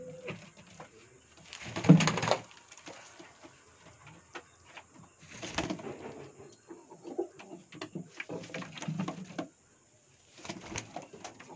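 Saharanpuri pigeons cooing, a breeding pair in a coop, with a few low soft coos and rustling over faint background hum.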